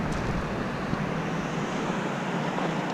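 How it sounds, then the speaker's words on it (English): A loud river rushes close by in an outdoor spot, a steady broadband roar of flowing water that fills the whole stretch without pause. "the very loud river to the side that you can almost certainly hear"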